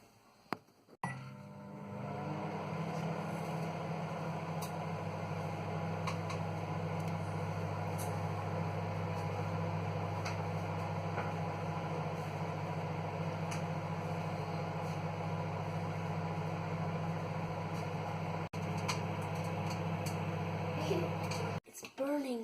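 A microwave oven runs with toothpaste inside, a steady droning hum and fan whir holding for about twenty seconds after a click on, ending with a sharp click and door sounds.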